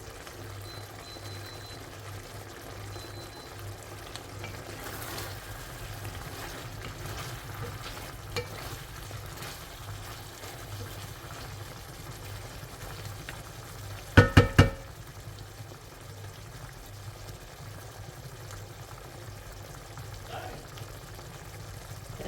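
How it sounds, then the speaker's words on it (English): Pork ribs slow cooking in sauce, a faint steady simmering bubble with a low hum underneath and a couple of sharp clinks partway through. "I'm going to slow cook this until the sauce is nice and sticky and thick"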